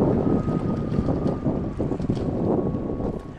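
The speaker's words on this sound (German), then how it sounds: "Wind kommt auf, Wolken verdecken die Sonne." Wind picks up on the island of Rügen, a loud, continuous blustery rush with rumbling buffeting against the microphone, steady throughout.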